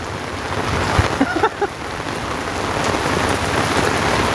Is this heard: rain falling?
yes